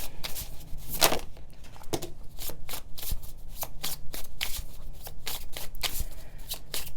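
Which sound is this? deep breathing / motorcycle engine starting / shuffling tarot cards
shuffling tarot cards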